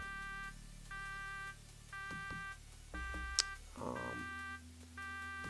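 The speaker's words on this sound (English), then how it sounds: "God, these alarms are just the freaking worst." Repeating electronic alarm tones from the Shadowrun video game: short harmonic beeps pulse in a steady on-off rhythm, roughly once a second, with a brief sharp blip and a lower sustained tone layered in toward the end.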